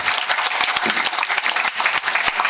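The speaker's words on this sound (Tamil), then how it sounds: "நீங்கள் அத்தனை பேரும் பலமாக ஒரு தடவை எல்லாருக்குமே கைதட்டுக்கிறாங்க" An audience at a Tamil talk gives loud, close applause for a singer, a dense burst of many hands clapping with sharp individual claps poking through the steady roar.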